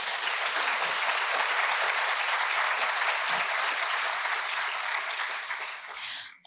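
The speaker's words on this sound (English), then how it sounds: "Let's give everyone another round of applause." Dense, sustained applause from a large audience at a university president's address, loud and steady for about six seconds before tapering off sharply at the end.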